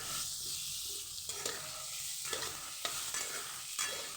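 Onion sautéing with salt in a pan for Kathiawadi baingan masala gives a steady sizzle, broken by several sharp scrapes and stirs of the spoon, with no talk.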